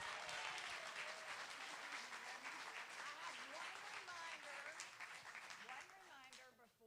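Audience applause at a pitch night for a startup competition in Northwest Georgia: steady broadband clapping throughout, with voices and cheers mixed in, tapering off toward the end.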